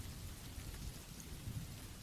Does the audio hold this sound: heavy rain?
yes